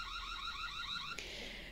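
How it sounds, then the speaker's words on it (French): A connected home security camera sounds its alarm, a rapidly warbling electronic siren pulsing in quick repeated sweeps, fairly faint over steady background hum, shifting abruptly to a different tone just before the end. "Donc, la caméra diffuse une alarme sonore."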